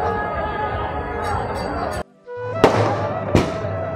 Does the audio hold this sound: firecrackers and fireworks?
yes